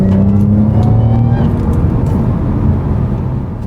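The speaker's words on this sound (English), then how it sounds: "It is quite loud, so if I change down a couple of gears, you're going to be able to hear it from inside the cabin as well." Audi S4 B8 3.0T fitted with a KYOSTAR intake, heard from inside the cabin while downshifting: a loud engine note that drops in pitch, then a throaty rumble with intake whoosh that gradually settles.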